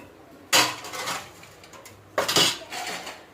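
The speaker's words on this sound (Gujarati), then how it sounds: "બધા વાસણ ઘસી નાખો ને." Steel dishes, pots and pans clatter in two bursts of scraping and clanking as they are scrubbed by hand, loud and close, with quieter rattling in between and no talk.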